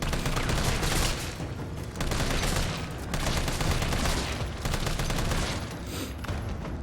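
Pistol fire at zombies in Resident Evil 3, a dense run of sharp shots repeating steadily and loud across the whole stretch, with no talking over it.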